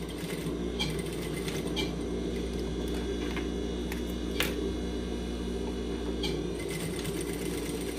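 Sewing machine stitching down fabric seam allowances on a garment's side seam, running steadily with a continuous mechanical hum and rapid needle clatter, plus occasional clicks.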